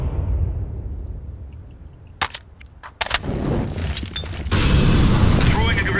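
A thrown grenade goes off underground in CS:GO on the Mirage map, heard as a few sharp bursts and a heavy blast amid game noise and ongoing voice chat.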